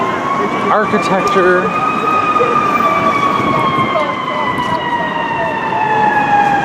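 Emergency vehicle sirens wail through downtown Chicago's Loop, long rising and falling tones fairly close over traffic and city noise, while people talk nearby.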